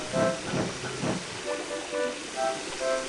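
A steam engine pulling a passenger train rolls past with rhythmic chuffing bursts and hiss, strong at first then easing into lighter regular beats, near and moderately loud with no voices.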